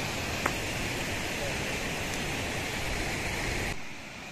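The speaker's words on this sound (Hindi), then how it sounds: "बारिश फिर स्टार्ट हो गई है" Rain falls in the mountains of Pakistan as a steady, dense hiss, loud and even, then eases slightly near the end.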